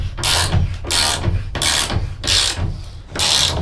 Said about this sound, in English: Having this ratchet wrench is lovely.